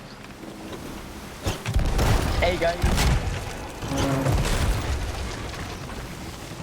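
Cannon fire from a pursuing ship in Sea of Thieves: a few heavy booms around the middle of the stretch, rumbling and fairly loud, mixed with game noise while people talk over it.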